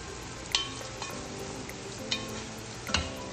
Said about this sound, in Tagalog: ayun, haluin na natin.